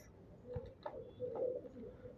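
Soft, low cooing calls from pigeons repeat a few times against a faint background, fairly close but quiet.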